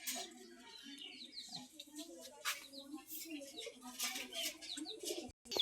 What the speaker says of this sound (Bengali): এই দেখুন আমাদের দেশি কবুতর বাচ্চা উঠছে